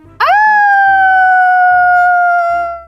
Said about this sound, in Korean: 강아지 소리가 난 것 같은데?